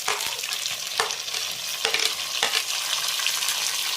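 Onions and tomato frying in a pan for egg curry, a continuous close sizzle punctuated by several scraping stirring strokes.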